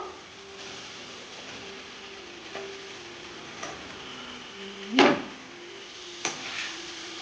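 Fried pointed gourd and potato pieces dropped into sizzling spice masala in oil and stirred, a soft steady fry with scattered light scrapes and one sharp clatter partway through.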